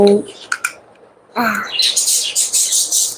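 Small birds chirp in quick bright bursts, close and loud, with a busy stretch of overlapping calls after a brief pause.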